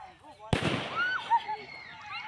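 A single sharp firecracker bang bursts nearby during a Saraswati idol immersion procession, followed by a high-pitched frightened shriek and lingering crowd noise.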